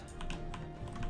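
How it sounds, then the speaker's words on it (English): Rapid, irregular clicking of keys on a computer keyboard, close and fairly soft, with a low steady hum beneath. "Just let me type in peace."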